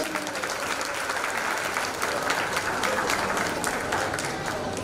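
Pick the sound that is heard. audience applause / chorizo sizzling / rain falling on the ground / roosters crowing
audience applause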